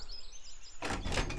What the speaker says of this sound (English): a moment later the door swung open